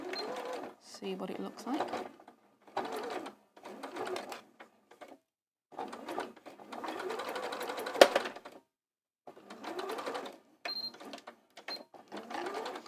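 A domestic sewing machine stitches a straight line on fabric in short bursts, stopping and starting several times while a person talks between and over the runs.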